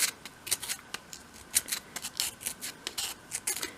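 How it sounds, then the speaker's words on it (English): Sandpaper sweeping over the corner of a small wooden top panel in a 1/12 scale model, short scratchy rasping strokes repeated in a quick uneven rhythm, close and fairly quiet with no talking. "So just sweep the sandpaper over the corner like that"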